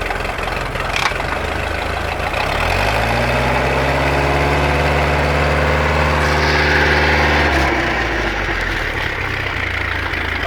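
A Sea Ray boat engine with freeze damage runs in gear under a little throttle, a steady loud idle whose low hum rises and settles before dropping back.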